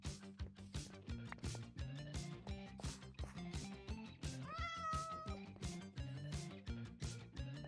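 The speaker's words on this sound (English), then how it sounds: "Cat likes the song." Over a looping game soundtrack, a Minecraft cat in a modded survival world lets out a single bending meow partway through, moderately clear against the music, with no voices.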